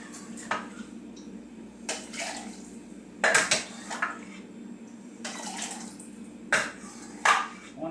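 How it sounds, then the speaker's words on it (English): Crock pot rib roast juices are poured into a plastic fat separator in a kitchen, giving several splashing, gurgling bursts and light clinks between quieter moments, close and fairly soft. "I'm going to pour it into my separator"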